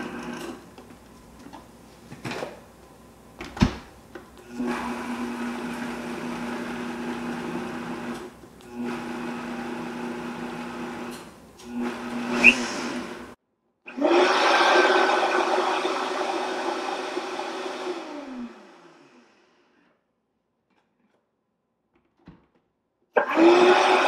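A blender liquefies chunks of watermelon in loud, close bursts that start and stop several times, its motor whirring steadily through the fruit. A long quiet gap comes before one last short burst.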